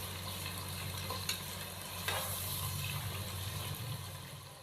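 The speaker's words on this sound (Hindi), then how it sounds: "चिकन की भुनाई कर लेंगे 4 से 5 मिनट के लिए, ताकि अदरक और लहसुन के पेस्ट के साथ ही चिकन की भी अच्छी तरह भुनाई हो जाए" Chicken pieces roast in a hot pan with ginger-garlic paste for pulao, giving a steady, dense sizzle and frying crackle throughout, close and fairly loud, with no talking.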